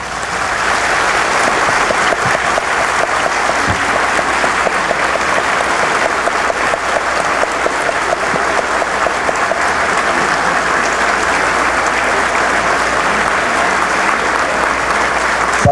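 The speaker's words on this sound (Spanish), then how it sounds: "vamos a pedir a los familiares e invitados y todos para un fuerte aplauso para" Sustained applause from families and guests fills a hall at an engineers' graduation ceremony, loud, dense and unbroken throughout.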